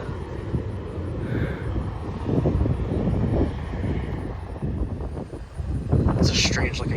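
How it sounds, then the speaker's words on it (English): An airplane comes in to land at Bluegrass Regional Airport in Lexington, Kentucky, a broad engine drone building and swelling under wind buffeting the microphone, with brief rustling near the end. "I happened to notice there's a plane coming in."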